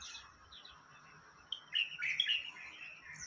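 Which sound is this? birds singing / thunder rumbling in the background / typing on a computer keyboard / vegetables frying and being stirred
birds singing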